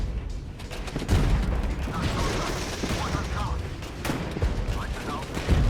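Gunfire and explosions hitting T-72 tanks in the Cold War strategy game Regiments, a dense steady barrage of shots and rattling bursts with heavy low rumble, continuous throughout.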